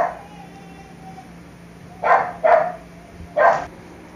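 A dog gives three short, sharp barks, two close together and then one more, at moderate distance over a quiet background.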